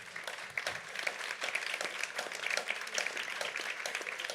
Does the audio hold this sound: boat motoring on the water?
no